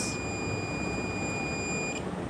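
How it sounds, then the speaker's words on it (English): A continuity tester lets out one sustained high-pitched electronic beep while probing a stereo's transformer switch. The tone holds steady for about two seconds and then cuts off. "it should beep when I touch these together"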